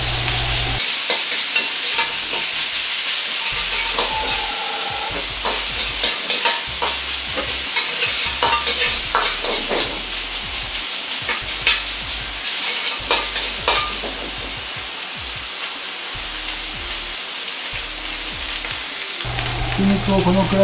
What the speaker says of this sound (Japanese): 鍋が乾いてきていたら油を少量足してひき肉を炒めます。